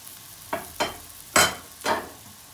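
Zucchini frying in oil in a pan: four short bursts of sizzling, each a quick hiss that fades, spaced about half a second apart with quiet between, close by.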